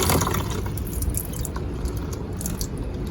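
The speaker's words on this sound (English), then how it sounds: "I just have to pour this like this and make sure I don't spill any pasta" Water poured off microwaved gnocchi straight from the container with no strainer, a steady splashing, dripping stream that stays close and fairly loud for a few seconds with no voices.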